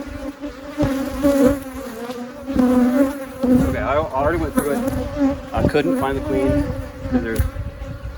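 A packed honeybee hive hums loudly and continuously during a walkaway split, the thick buzzing swarm close by while someone speaks over it.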